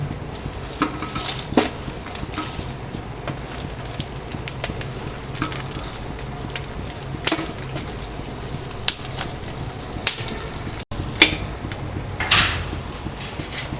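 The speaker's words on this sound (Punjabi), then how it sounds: "ਡਰਾਈ ਫਰੂਟ ਸਾਰੇ ਹੀ ਘਿਓ 'ਚ ਭੁੰਨੇ ਜਾ ਰਹੇ ਨੇ ਜੀ" Dry fruits, including fox nuts, roast in ghee in a pan for panjiri, with a soft continuous sizzle and repeated scraping, clinking stirs of a spoon against metal, close and steady without talk.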